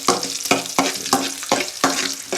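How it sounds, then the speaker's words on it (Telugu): Cumin seeds with green and dried red chillies frying in oil in a kadai, a steady close sizzle broken by about seven sharp stirring scrapes at a regular rhythm, with no talking. "బాగా వాసన వచ్చే మేను వేయించుకోండి"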